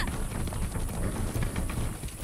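Horse hooves clip-clopping in Far Cry 6, a steady run of muffled hoofbeats at moderate level against a dense, constant game background with no clear gaps.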